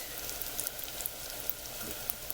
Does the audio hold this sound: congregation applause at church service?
no